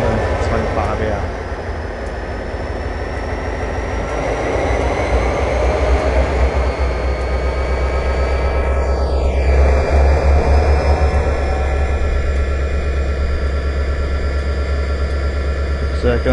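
A diesel locomotive on Marias Pass in Train Simulator 2013 throttles up: a loud steady engine rumble with a rising whine and tonal sweep midway, continuous and close.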